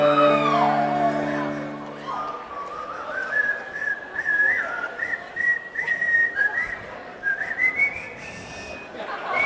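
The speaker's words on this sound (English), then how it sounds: "whistling Dixie." A man whistles the tune Dixie onstage at a live band show, a clear melodic line rising and wavering over a murmuring crowd, after a brief sung or played phrase at the start.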